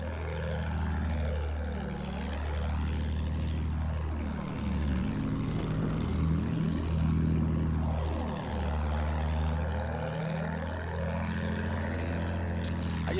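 Propeller plane flying in a video game, a steady droning engine hum with slow rising and falling sweeps as the aircraft passes and turns, continuous and fairly close.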